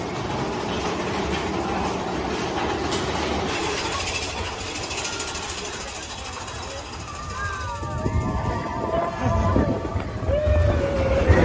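A roller coaster train on Big Thunder Mountain Railroad at Walt Disney World rumbles along its track with a steady roar and rattling clatter, swelling louder toward the end.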